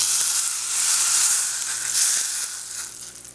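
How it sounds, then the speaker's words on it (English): Smoking hot oil hits crushed roasted tomato for Trinidad-style tomato choka, bursting into a loud, close, rushing sizzle that holds steady for a few seconds, then eases off slightly toward the end. "when it starts to smoke, that's when you're going to remove it from the fire and add it to your crushed tomato"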